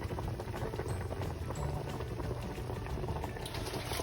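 A pot of smoked meats bubbles at a steady simmer-boil on the stove, a continuous close gurgling with no talk.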